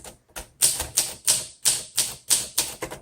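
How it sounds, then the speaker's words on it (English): Keys clack on a 1956 Olympia SM3 manual typewriter, close and loud, with about nine sharp evenly paced strikes and faint mechanical rattle between them, and no voice. "So let's go ahead and just start typing."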